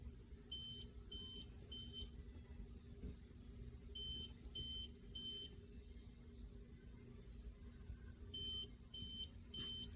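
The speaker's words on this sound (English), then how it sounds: "There's your intruder alarm." A small buzzer on a Raspberry Pi Pico intruder alarm beeps in bursts of three sharp, high-pitched tones, repeating three times with pauses of quiet hum between groups.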